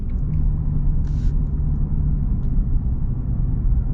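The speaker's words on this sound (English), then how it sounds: "he's barely getting the throttle, and it's just boom, and it hits" Deep, steady rumble from the Duramax diesel engine of a 2025 Chevy Silverado Trail Boss as it accelerates, heard from inside the truck as a loud continuous low drone with road noise.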